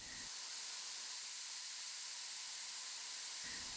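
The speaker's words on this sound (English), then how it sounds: "Try not to gas yourself with finishing spray." Finishing hairspray hisses from a can in one sustained, close, soft spray burst lasting about three seconds, starting and stopping cleanly during a salon haircut, with no talk.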